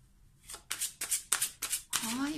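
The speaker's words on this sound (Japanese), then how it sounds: "今再度シャッフルさせていただいております" A deck of tarot or oracle cards is shuffled by hand in quick riffled bursts, about five crisp papery flurries in a row, with a voice speaking over the final one.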